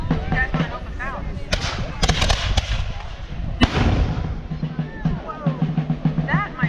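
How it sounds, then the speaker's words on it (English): A mortar fires at a historical reenactment at Fort Henry, sounding as heavy booming thumps among crowd noise, with people talking and exclaiming throughout. "Whoa. That, my friends, is a mortar."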